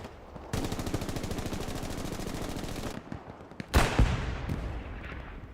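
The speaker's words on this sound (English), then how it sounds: "An explosion back here." Explosion during a large 49-versus-49 Hell Let Loose match on the Omaha Beach map, a sudden loud blast breaking through sustained rapid machine-gun fire and other battle noise.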